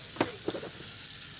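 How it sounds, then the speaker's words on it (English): Pancetta and leek fry in a pan at an outdoor seafood festival cooking demonstration, a steady, even sizzle with a couple of soft knocks from stirring, close and continuous with no talking. "Everything is cooking nice."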